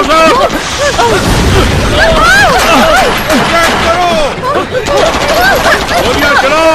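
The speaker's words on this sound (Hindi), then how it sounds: "गोलियां चलाओ।" Gunfire crackles through an action movie shootout, with rapid bursts and pops scattered over shouting voices and music-like tones, loud and busy throughout.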